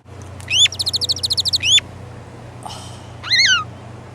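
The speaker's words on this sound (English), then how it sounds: "The Freakin Birds." Birds call in a quick run of about a dozen sharp, evenly spaced chirps, then a pause and a second short burst of bright calls, all over a steady low hum with no voices.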